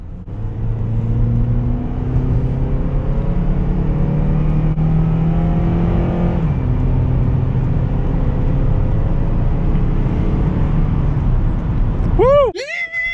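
A 2012 Honda Accord SE four-cylinder sedan with 166,000 miles drones and rises in pitch as it accelerates onto a freeway, steady and loud from inside the cabin, ending with a short rising squeal.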